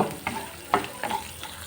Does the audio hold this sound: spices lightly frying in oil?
yes